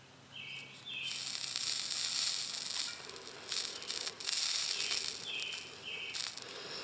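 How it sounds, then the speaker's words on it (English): A soldering iron sizzles and hisses on the wires of LED trailer lights, in two long close bursts with a short pause between them. "let's do some soldering."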